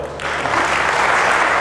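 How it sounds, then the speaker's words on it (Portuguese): Studio audience applause on a Portuguese televised debate programme about local administration reform, a sustained dense wash of clapping that swells after a brief start and holds steady and loud throughout. "não vamos estar sempre a bater palmas, senão vamos ter um programa só com palmas"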